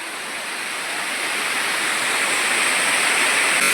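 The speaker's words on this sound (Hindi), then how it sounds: "तो ये है देसी झरना पहाड़ों का" Mountain waterfall in a forest, a loud steady broadband rush of falling water, close and unbroken, with no voices over it.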